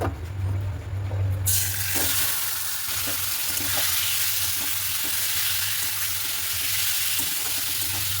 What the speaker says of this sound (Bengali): বিনস আর গাজরগুলো দিয়ে দিয়েছি একটু ভালো করে ভাজা ভাজা করি